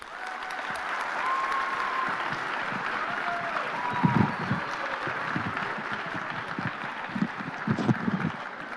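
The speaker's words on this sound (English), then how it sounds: "so I want a round of applause for them" Crowd at a community festival applauds event staff, a sustained wash of clapping that swells in places, moderately loud and somewhat distant, with faint voices underneath.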